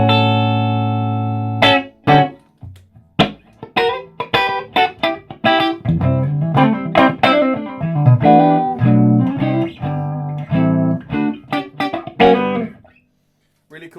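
Clean electric guitar through a single-channel amplifier with master volume, plucked notes and chords ringing out in a loose rhythm, loud and close, with pauses between phrases.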